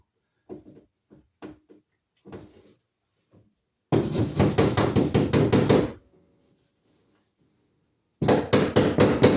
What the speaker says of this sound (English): now we can start stapling up here